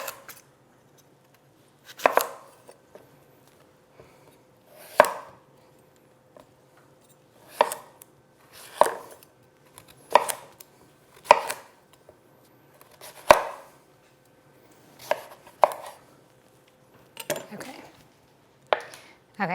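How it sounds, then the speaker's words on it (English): A spoon scrapes seeds and pulp from the inside of a halved squash in repeated short, sharp scooping strokes spaced a couple of seconds apart, close and fairly crisp, against near silence. "we're just taking our spoon and going around and cleaning it out"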